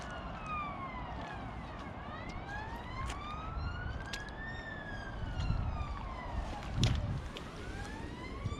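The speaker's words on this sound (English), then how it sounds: "Not the siren, which means that somebody somewhere is having a bad day" A siren wails in the distance, rising and falling repeatedly over a low rumble of traffic or wind.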